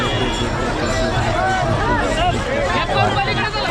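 A dense crowd presses and jostles at a Maharashtra temple gathering, a steady loud hubbub of many overlapping voices and shuffling filling the whole stretch without pause.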